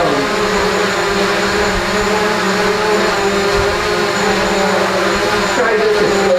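A DJI Mavic Pro drone flies indoors, its propellers giving a loud, steady high-pitched whine and buzz that fills the room continuously and closely.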